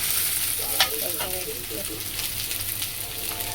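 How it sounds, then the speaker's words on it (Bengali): Thick-cut onion and chopped tomato fry in a pan with a loud, continuous sizzle close by. A spatula scrapes and stirs, and faint voice-like tones sit under the hiss. "পেঁয়াজটা একটু ভেজে নেবো"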